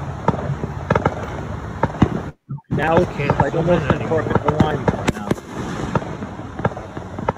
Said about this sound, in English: Boy, they're enjoying the fireworks.